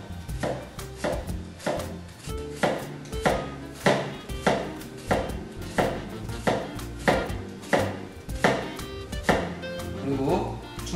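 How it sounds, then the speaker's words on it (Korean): A kitchen knife scores an onion along its grain, striking the cutting board in steady, evenly paced strokes about every second, close and crisp, while a person talks over the cutting. "양파의 결 방향대로 칼집을 내어줍니다"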